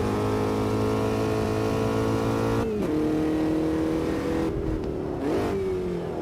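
Formula V race car engine in the Automobilista 2 racing game, a steady loud buzzing drone that drops in pitch with two quick shift-like dips, heard alone without talk.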